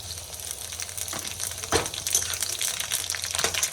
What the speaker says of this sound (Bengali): এই যে তেল গরম হয়ে গেছে আমি তেজপাতা শুকনো লঙ্কা ফোড়নে পাঁচ ফোড়ন